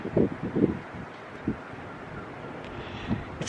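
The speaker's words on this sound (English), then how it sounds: "It's kind of windy today," Low rumbling gusts buffet the microphone, with a few stronger thumps early on and a steady windy roar underneath.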